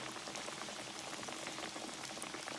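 A large catfish fillet frying in hot oil, a dense even crackle and bubbling hiss held steady throughout, fairly faint, with no talking.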